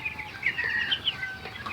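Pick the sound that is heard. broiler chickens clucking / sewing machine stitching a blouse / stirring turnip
broiler chickens clucking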